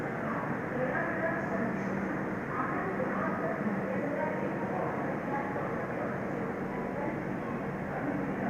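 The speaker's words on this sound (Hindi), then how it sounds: "और देखते ही देखते हमारी ट्रेन का भी डिपार्चर हो चुका है।" A Ballia Humsafar Express passenger train pulling out of a station in India, heard as a steady low rumble and rolling rattle of the coaches, constant throughout, with faint talk mixed in.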